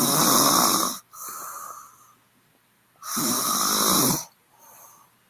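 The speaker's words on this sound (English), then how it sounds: "Woman snore." A woman snoring, with two long, loud rasping inhalations and softer, breathy exhalations between them, close and steady with nothing else in the background.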